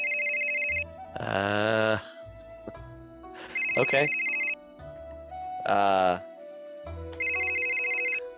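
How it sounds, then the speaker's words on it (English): A telephone rings in a repeating electronic tone, several evenly spaced rings alternating with a louder sustained buzzing tone, and a voice speaks briefly between them. "Someone will pick up after a few rings."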